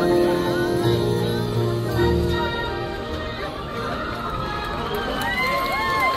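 A large crowd cheers loudly at a Texas high school marching band performance on a football field, a dense continuous roar of voices and shouts with band tones sustained underneath throughout.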